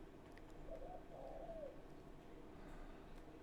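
A bird calling outside a window gives one soft cooing phrase, faint and distant over a low background hiss.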